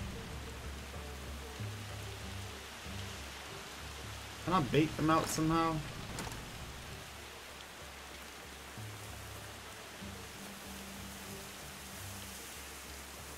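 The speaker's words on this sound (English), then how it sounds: "And the storm is getting worse." A rainstorm in the video game Far Cry 2 makes a steady hiss of falling rain that runs throughout. Someone speaks briefly over it.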